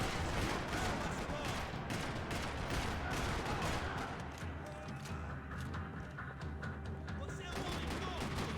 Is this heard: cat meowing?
no